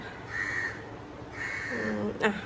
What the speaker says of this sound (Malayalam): ഈ കാക്ക എന്നെ പറയാൻ സമ്മതിക്കുന്നില്ല